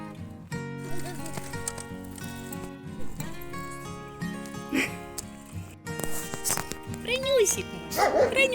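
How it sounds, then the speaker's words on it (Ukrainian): A dog let outside gives a few scattered barks and yips at a moderate distance, with someone speaking over them on a rural path. "песика выпустили"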